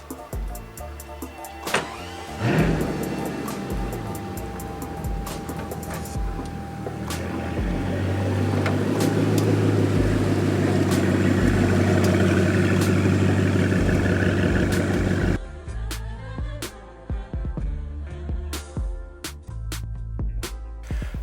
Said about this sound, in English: I hear the Chiron's pulling in right now